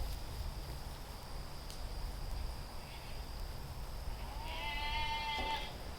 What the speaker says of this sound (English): That's my youngest goat right there